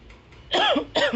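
Two sharp, harsh coughs close to the microphone, the second following about half a second after the first, with no talking.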